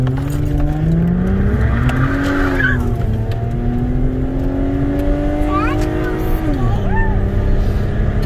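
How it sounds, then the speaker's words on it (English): Red Toyota Camry V6 doing a burnout, loud engine revving with rising and falling pitch and tires squealing steadily close by, with voices talking over it. "You burned some fresh rubber."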